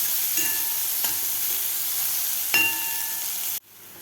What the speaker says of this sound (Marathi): कांदा थोडासा गुलाबी कलर होईपर्यंत आपल्याला थोडासा परतून घ्यायचा आहे